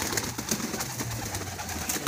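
Pigeons in a loft coo in low, muffled bursts under a dense hiss of ambient noise, continuous and fairly close.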